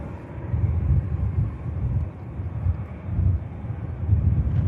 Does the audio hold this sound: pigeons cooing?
no